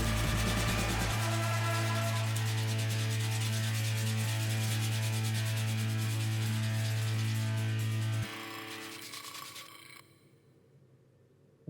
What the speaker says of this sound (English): I then whipped out my German multi-tool and started to shape my roach